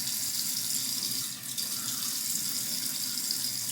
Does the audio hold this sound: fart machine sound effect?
no